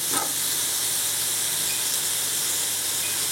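Two sliced onions hitting a hot pan with meat juices give a loud, steady hiss and sizzle throughout, close and continuous.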